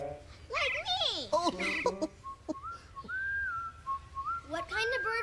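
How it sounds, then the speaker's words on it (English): A bird call in a children's pretend-play setting, a series of whistled, warbling notes with sliding pitches, some held and rising, up close and loud, and no talk beneath them. "What kind of bird was that? Oh, I'm not sure, but the sound was coming from over there."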